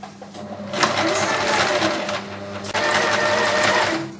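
Small IKEA sewing machine overcasting both layers of a shirt seam, a loud, close, rapid rattling hum running in two stretches with a brief pause between them.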